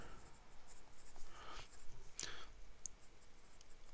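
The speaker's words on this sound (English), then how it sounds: "I just really want to just go through and just show you how these pens write." A Leonardo Officina Momento Zero fountain pen with a broad nib writing on paper, giving soft, close scratching strokes with a few light clicks, quiet and alone.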